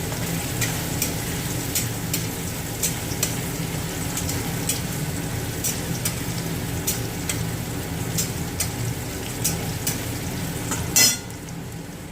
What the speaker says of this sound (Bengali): পনিরগুলো হালকা ভেজে তুলে নেব।